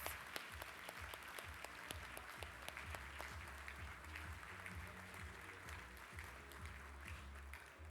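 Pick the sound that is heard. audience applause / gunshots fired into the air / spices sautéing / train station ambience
audience applause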